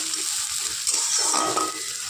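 Onion, tomato and green chili with garlic stirred gently in a frying pan, a soft steady sizzle under a few scraping turns of the spoon, close and without talk.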